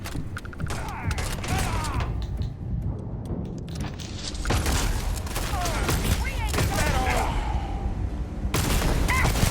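Gunfire in the video game Starfield rattles in dense volleys with mechanical clanks and creaks, growing fuller and louder toward the end, while voices talk over it.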